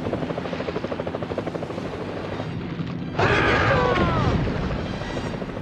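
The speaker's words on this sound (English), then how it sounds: "Oh, the helicopter's flying real low." Rhythmic rotor thumping of a low-flying helicopter in the video game Jaws Unleashed chops steadily, then a sudden louder burst of crashing, whooshing noise joins in over the beating blades.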